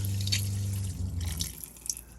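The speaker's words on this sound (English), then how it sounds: "This is the water. It's really a nice strong flow." Water pours in a strong, steady flow from a swivelling shower head fitted in a Winnebago Travato 59G Class B camper van, a constant close splashing rush with no voices.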